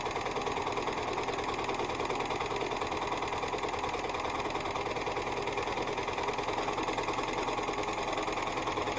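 A sewing machine runs continuously while quilting a barn-quilt motif, its needle mechanism chattering at an even, rapid rhythm with a steady motor hum, close and unbroken throughout.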